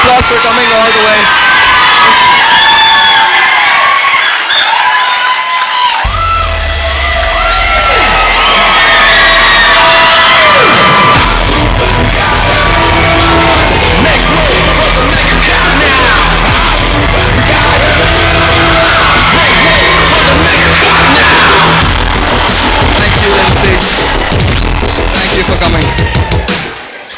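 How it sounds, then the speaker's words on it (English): A large crowd at an educational institution's event erupts in loud cheering, yelling and whoops with applause, a sustained roar that swells after a brief quieter start and keeps going close and full for nearly half a minute. "So please give her a big round of applause for coming all the way."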